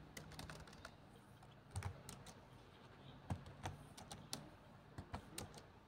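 Fingers tap on a computer keyboard in quick, irregular bursts of soft clicking, with a few louder keystrokes standing out against a quiet room.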